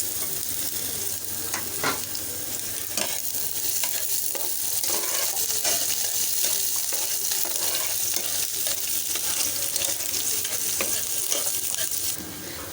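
Onion, garlic and green chilli frying in hot oil in a pan, a continuous loud sizzle with scattered stirring scrapes and clicks, no talk.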